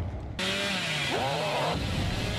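A chainsaw revs loudly and steadily after a brief quiet start, its pitch dipping and rising, in the horror game Dead by Daylight.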